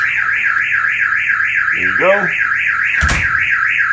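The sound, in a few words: Kerui wireless home alarm system siren sounding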